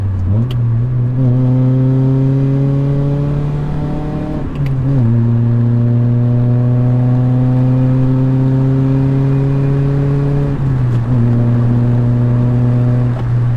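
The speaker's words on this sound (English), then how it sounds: "You can hear that exhaust." A Honda Prelude exhaust drones loudly and steadily while driving, rising in pitch through gears with two brief dips at shifts, no voices over it.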